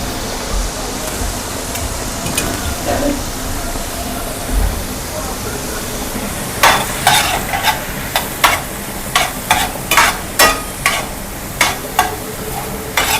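Curry leaves and green chillies sizzle in hot oil for a Maharashtrian tomato chutney, a steady frying hiss with a run of sharp spattering pops toward the end, close up, with a voice talking over part of it.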